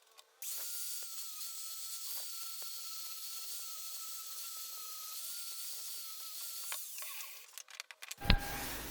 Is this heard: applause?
no